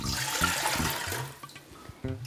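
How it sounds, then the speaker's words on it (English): Water runs into a tall pot to a depth of about three inches for steaming artichokes, a steady splashing pour with a few clanks along the way, close by and moderately loud. "I like to put in about 3 inches of water in my tall pot."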